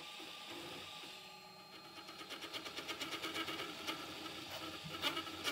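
A Prusa MK4 3D printer fitted with a pellet extruder prints at high speed, giving a faint, steady whir and buzz. Rapid rhythmic stepper ticks join in partway through, close and with no voices.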